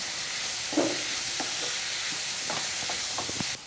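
Sliced onions fry in coconut oil in a pan, giving a steady close sizzle with a few soft spoon scrapes and taps scattered through, and no one speaking.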